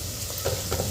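Goda masala spices being sautéed in a pan for a Maharashtrian masale bhat, a brief, close scrape of a spatula over a soft steady sizzle, with two quick stirring strokes.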